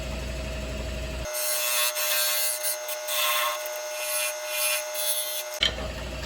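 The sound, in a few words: smaller gouge cutting sycamore salad bowl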